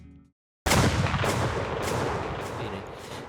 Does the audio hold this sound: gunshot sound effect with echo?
yes